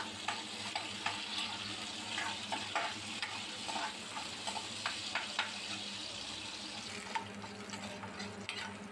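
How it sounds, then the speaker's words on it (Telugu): Red and green chillies frying in a little oil in a pan, a continuous soft sizzle with light scraping stirs and small taps scattered throughout, close by and low in level, no voices. "అందులోనే కొద్దిగా ఆయిల్ వేసుకొని పండుమిర్చి అలాగే పచ్చిమిర్చి దోరగా వేయించుకోవాలి"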